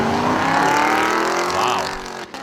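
A Corvette C7 and a Mercedes C-Class roar through a drag race, their engines revving hard through rising gears. One car's pitch sweeps up and falls away before the noise cuts off abruptly.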